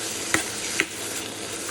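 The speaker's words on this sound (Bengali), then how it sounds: "এবার সেদ্ধ করা মোচাটা দিয়ে দেবো, দিয়ে গুঁড়ো করে নেব।" Boiled banana flower being mashed with spices in a frying pan for cutlets: a steady close sizzle broken by two sharp utensil knocks against the pan, with no talking.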